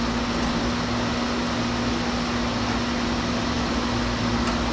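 An aluminum wire stripping machine runs with a steady, continuous mechanical hum and a constant low drone, close and unbroken, with no talking.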